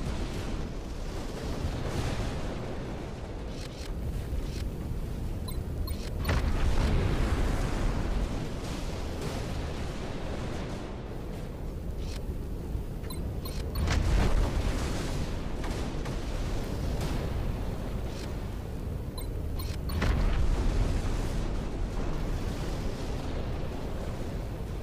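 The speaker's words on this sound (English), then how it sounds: "This player-made gun is the definition of raw power by Chris." A player-made gun in a Unity video game fires continuously amid repeated booming explosions, a loud, dense, rumbling barrage with periodic heavier blasts and no talk.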